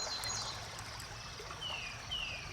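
A water sample is poured into a container at a field nutrient-testing site, a soft continuous trickle and splash close by, with faint high tones in the background.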